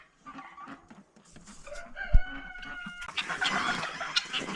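Chickens on a frozen farm cluck and chatter close by, with a rooster-like call in the mix and a busier burst of squawking toward the end.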